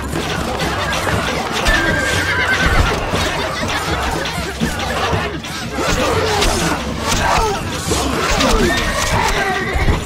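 Horses neigh and whinny repeatedly amid a busy, noisy Stronghold Crusader battle scene of hoofbeats, crashes and background voices, loud and close throughout.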